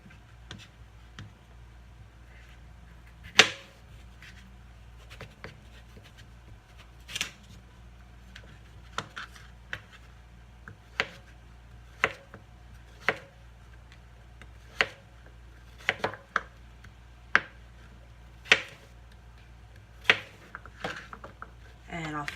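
Butternut squash being chopped into pieces on a board during a cooking demo, sharp knife taps spaced irregularly and fairly faint, with talk in the room.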